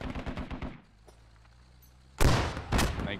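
A video game grenade bursts with a loud, sharp blast followed by a second heavy crack, coming after a stretch of voice and a quiet low hum.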